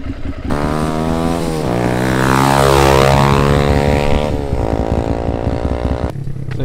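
Manual clutch motorcycle being ridden, its engine revving up through the gears with a loud rising and falling drone, passing close by before the pitch drops.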